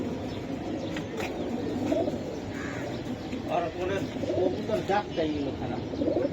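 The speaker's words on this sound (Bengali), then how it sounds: "এই যে দেখেন খুবই সুন্দর কবুতর" High-flyer pigeons cooing in a loft, soft low coos repeating under men's conversation nearby.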